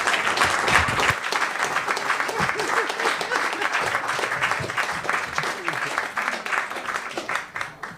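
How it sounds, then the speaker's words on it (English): A crowd applauds and cheers for the band before they play, with dense, loud, sustained clapping that carries a little crowd voice and fades toward the end. "I bet if you would put your hands together and give them a big round of applause"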